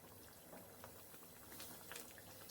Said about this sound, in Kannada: ನೋಡಿ, ಇದು ಕುದೀತಾ ಇದೆ